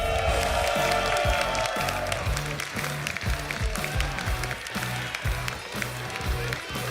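Audience at a Summoners War esports tournament stage applauding a player's entrance, dense steady clapping with cheering from a large crowd, while a loud rhythmic music beat pulses underneath.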